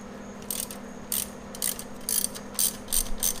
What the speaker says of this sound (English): You'll want to start by loosening the 12mm one, and you'll need a wrench on the back side with another 12